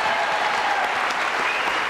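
A studio audience at a French TV show bursts into brief, steady applause as a guest enters.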